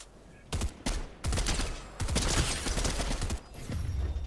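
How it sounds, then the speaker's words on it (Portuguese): Rapid bursts of automatic gunfire in Fortnite, loud and close, firing in several long strings with brief gaps between them. "Dei o último tiro, Beto."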